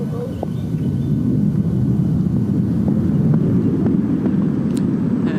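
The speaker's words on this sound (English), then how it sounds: "We've got the planes going overhead." A continuous low roar of aircraft engines rumbles steadily overhead at a golf tournament, loud and unbroken, with faint small clicks and chirps on top.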